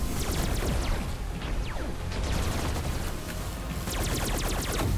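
Rifle gunfire in the video game Tesla Force, rapid bursts of shots rattling off in quick succession at a fairly low level, with a brief lull midway before another volley.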